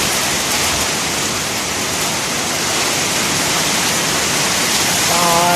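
Heavy rain and strong wind during a storm at a rural Thai home, a loud continuous roaring hiss of downpour and gusts filling the whole clip with no letup.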